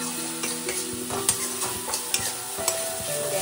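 Ginger, garlic and green chili frying in a pan for chital fish curry, with a steady sizzle broken by several sharp scraping stirs and clicks of a spatula, fairly close.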